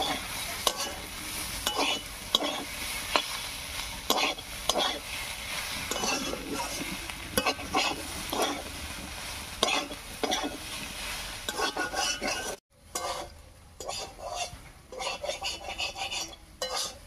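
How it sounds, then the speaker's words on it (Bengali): Egg being stirred and fried together with cauliflower in a pan, a steady close sizzle with repeated scraping stirs throughout, briefly cutting out near the end before the frying noise resumes. "ফুলকপির সঙ্গে ডিমটা খুব ভালো করে মিশিয়ে নিয়েছি"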